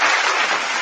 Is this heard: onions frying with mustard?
no